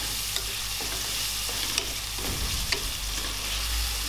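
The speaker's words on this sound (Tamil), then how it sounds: "இதில் 1 தக்காளி, அதையும் நல்லா பொடி பொடியாக கட் பண்ணி போட்டு வதக்கி விடுங்க." Chopped tomato sautéing with green chili in a pan, a soft steady sizzle with occasional stirring scrapes and clicks, close and moderately quiet, no voices.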